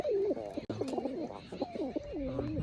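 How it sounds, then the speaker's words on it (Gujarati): A pigeon or dove coos repeatedly at a pigeon loft, steady rolling calls heard over a faint background, with some voice activity mixed in. "આ એક પક્ષી છે ને બહુ બોલે તમને કદાચ સંભળાતું છે પાછળ"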